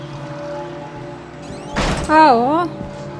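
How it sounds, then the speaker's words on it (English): A single sharp door bang in the video game Outlast, followed by a wavering, voice-like tone over a quiet background hum. "can you stop banging doors before me or after me?"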